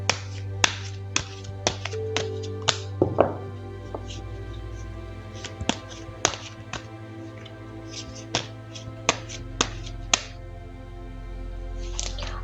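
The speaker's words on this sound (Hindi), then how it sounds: "चलिए पहले ज़रा कार्ड्स को शफल कर लेते हैं।" Tarot cards shuffled by hand, giving scattered crisp snaps and soft taps at an irregular pace over a steady low hum.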